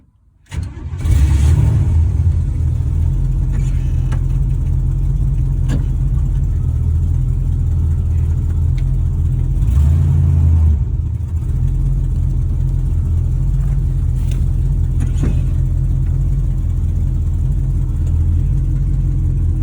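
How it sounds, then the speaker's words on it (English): Car engine running in reverse gear while a reversing camera is tested, a loud steady low rumble that starts abruptly and holds almost unchanged, with a brief swell partway through. "Now I'm going to reverse the car a bit more."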